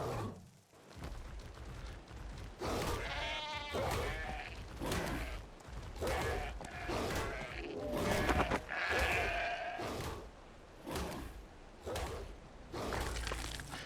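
A sheep in a video game, on the Ark-style map Aberration, bleats repeatedly in wavering cries amid busy, dense game sounds and crashes, moderately loud and close throughout.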